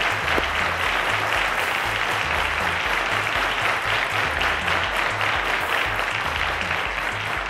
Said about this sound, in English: Let's give a round of applause to Promasador.